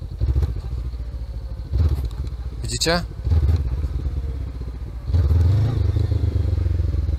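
Motorcycle engine idling loudly nearby as the throttle is opened very gently, rising in two slow surges during a riding lesson, with someone speaking over the rumble.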